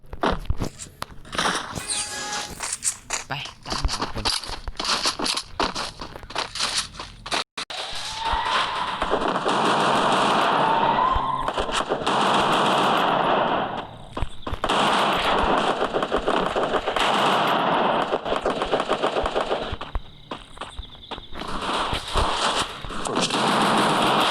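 Rapid bursts of gunfire in a shooting video game, loud dense volleys that stop and start, with sharp crunchy impacts throughout and no talking.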